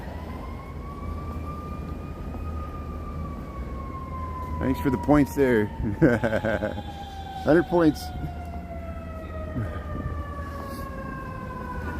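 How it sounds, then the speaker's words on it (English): An emergency vehicle siren wails steadily in the distance, its tone sliding slowly downward, while a person talks briefly over it on a street in Lakeview, Chicago. "There's sirens coming here."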